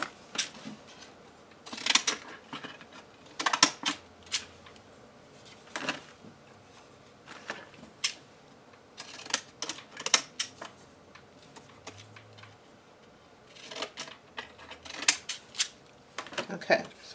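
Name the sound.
scissors cutting the edge of paper for a planner cover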